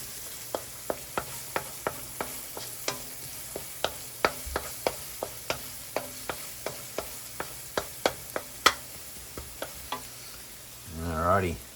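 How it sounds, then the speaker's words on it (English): Garlic and onions sautéing in a pan for a plant-based spaghetti bolognese, with a steady low sizzle under a long series of sharp, evenly spaced utensil taps against the pan, ending in a louder burst of stirring. "Alrighty, they're almost sauteed"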